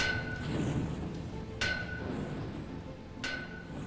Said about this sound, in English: Hear that? That's the sound of hammers.